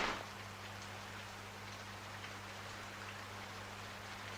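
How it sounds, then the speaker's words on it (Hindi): Rain pours steadily in a constant soft hiss of drops, even and unbroken, with a low steady hum beneath and no voices. "व्हाट बारिश।"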